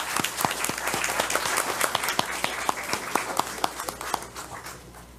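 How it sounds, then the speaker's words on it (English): A live audience at a county board of education meeting breaks into a round of applause, dense overlapping claps sounding steady and fairly close for several seconds, with sharper individual claps poking through. "Let's give them a great big round of applause"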